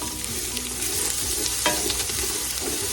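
Red onion sizzling in hot oil in a pan at home, a steady, loud, close crackling hiss with stirring scrapes throughout.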